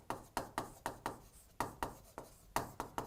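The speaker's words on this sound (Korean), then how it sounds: "우리가 재무제표 종류를 칠판에 한번 써볼게요." Chalk tapping and scraping on a blackboard as a teacher writes during an accounting lecture: a quick, regular series of sharp strokes, about three per second, fairly close and with no talking over them.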